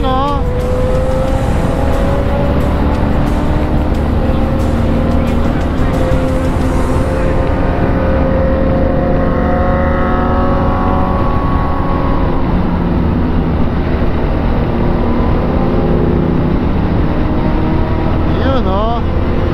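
A BMW R1250 GS motorcycle engine drones loud and steady throughout, overlaid with constant road and wind rush while a rider talks over it, and the engine pitch sweeping upward near the middle.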